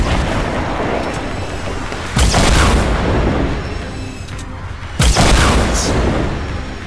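Two heavy rocket launcher blasts in a Fortnite battle royale match, each a sudden loud boom with a rumbling tail, about three seconds apart over steady game noise.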